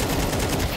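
Rapid automatic gunfire from the video game Counter-Strike 2, a dense, continuous burst of loud shots with a sound effect added, lasting under a second with no talk.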